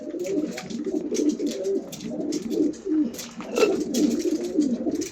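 Janssen-line racing pigeons coo steadily in low, throaty rolling phrases, several birds close by with soft rustling and faint chirps in the background.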